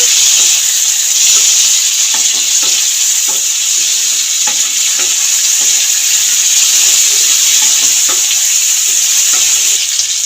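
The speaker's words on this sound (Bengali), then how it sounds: "চিংড়ি মাছ কাটা নুন হলুদ মাখানো তাকে দিয়ে দিলাম একসাথে ভেজে নেব" Shrimp rubbed with salt and turmeric frying together with browned potatoes in a pan, a steady loud sizzle throughout with intermittent scraping stirs, no talking.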